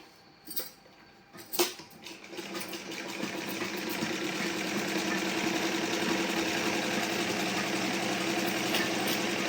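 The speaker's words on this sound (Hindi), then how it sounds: "अब हम इन मुड्ढे यानी कि आर्म होल पे सिलाई लगाएंगे।" A sewing machine runs steadily while stitching around the armhole of a blouse, its continuous mechanical whirr rising after a couple of short knocks and holding at an even level with no talk.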